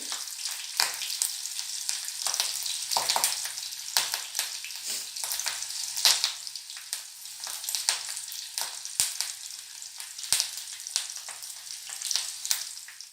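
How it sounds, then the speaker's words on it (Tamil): Curry leaves and onion fry in hot oil with a continuous crisp crackle and sputter, with scattered sharper pops throughout and no voices. "கருவேப்பிலை சேர்த்தாச்சு நல்லா இப்போ பொறிஞ்சி வருது"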